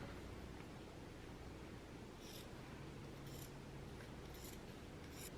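Scissors clipping into gingham fabric seam allowance while sewing a dress, faint snips rising above a steady hiss, close and quiet with no talk.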